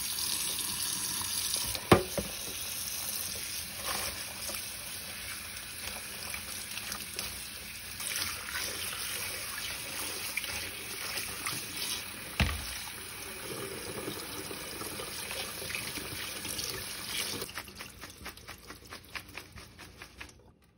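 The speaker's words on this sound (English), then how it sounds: "washing my leaves very well under some cold water" Cold tap water runs steadily over basil leaves in a sink, giving a continuous splashing hiss with intermittent clatters and handling sounds, then tapering off at the end, with no talking.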